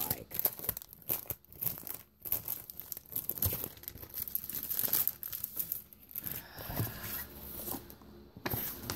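A package of 12 by 12 inch scrapbook paper is opened, with plastic wrapping crinkling, rustling and tearing in irregular close bursts, and the sheets shuffle and slide near the end.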